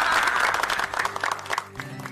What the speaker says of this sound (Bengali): তাই জন্যে আমাদের সকলের উচিত ওর জন্য একটা বড় করে হাততালি দেয়া